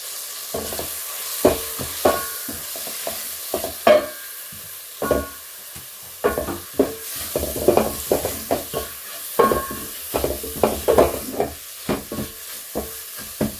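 Carrots go into a pot of frying leftover stew rice, with a background sizzle broken by a quick series of scraping, stirring knocks from a spoon against the pot, no talking.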